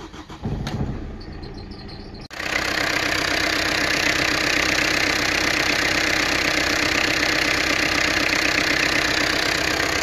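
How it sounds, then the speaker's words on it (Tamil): A Tata Indica car with a head gasket problem starts up: a brief cranking whir catches, and the engine settles into a loud, steady idle that runs on unchanged. "இந்த வண்டியை உங்களுக்கு ஸ்டார்ட் பண்ணுறேன்"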